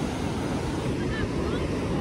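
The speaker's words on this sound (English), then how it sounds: "As Chris went out to the ocean, now he's swimming." Ocean waves on a beach produce a steady, loud broadband roar mixed with wind rumble against the microphone, continuous throughout with no distinct breaks.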